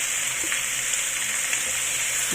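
Ingredients for pork adobo fry in oil in a pan, a loud, steady close-up sizzle with a few faint clinks and no talking.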